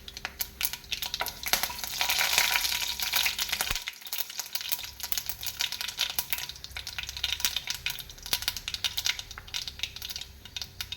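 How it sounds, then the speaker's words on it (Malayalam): Mustard seeds hit hot coconut oil already holding green chilli, garlic, ginger and curry leaves, producing a loud, close, dense crackle and sizzle with rapid popping and a brief clatter of stirring, without talking. "വെളിച്ചെണ്ണ തിളച്ചു പച്ചമുളക് വെളുത്തുള്ളി ഇഞ്ചി കറിവേപ്പില ഇനി കടുക് ഇട്ട് കൊടുക്കാം"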